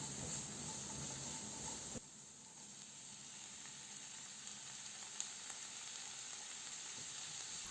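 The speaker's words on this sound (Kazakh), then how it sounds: "Содан соң сәбізді араластыра отырып 1-2 минут қуырамыз" Carrots and onion for a pickle soup fry in a pan, a steady close sizzle and hiss that dips briefly after a stir, then carries on with a couple of small clicks.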